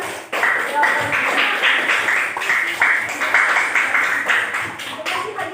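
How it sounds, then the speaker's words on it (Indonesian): A classroom group claps for the first group after its presentation, giving several seconds of brisk, steady applause from many hands that begins abruptly and fades slightly toward the end. "kita beri tepuk tangan dulu untuk kelompok satu yang sudah mempresentasikan jawabannya"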